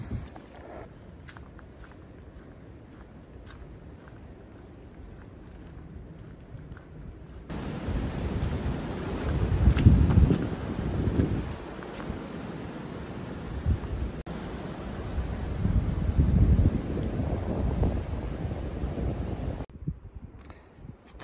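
Steady wind roars against the microphone in rising and falling gusts on a ridge of the Appalachian Trail, quieter at first and strongest in the middle, with no talking.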